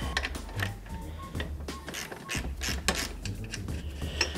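A ratchet working a nut loose on a Honda Shadow's rear mono strut, with rapid clicking pawl strokes and metallic clanks in uneven bursts, close by over a low steady hum.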